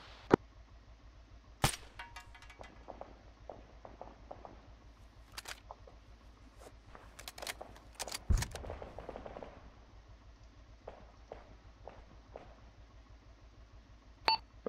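Bolt-action rifle shots in a video game, several sharp isolated cracks spread unevenly through the stretch, each followed by mechanical clicks and handling noises, over quiet game background with no talk.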